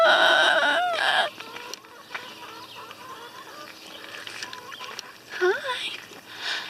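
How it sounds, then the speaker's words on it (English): Chickens cluck on a farm in a busy, close chorus of varied calls, loud at first, then softer, and swelling again toward the end; a person's voice comes in briefly. "Look at all those chickens."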